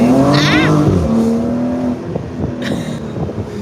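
A classic car engine revs and accelerates hard up close, its pitch climbing, then drops back to a rougher, lower drone with some rattles.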